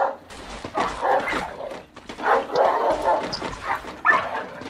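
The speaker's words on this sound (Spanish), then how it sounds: "callen a esos perros" Several dogs bark and yip in overlapping bursts, fairly close and loud, running almost continuously with brief whimpering in between.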